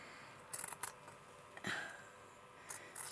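Small scissors snip embroidery thread in a quiet room, a few crisp close cuts spread across a moment of near silence.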